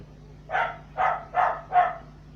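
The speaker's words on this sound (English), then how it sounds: "Excuse the dogs barking." Dogs bark at home, four short evenly spaced barks, moderately loud and slightly muffled as if from another room, over a faint steady hum.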